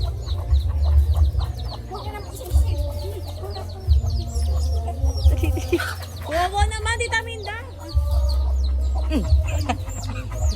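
Chickens cluck repeatedly nearby, with a louder burst of squawking midway, while people talk over a low rumbling background.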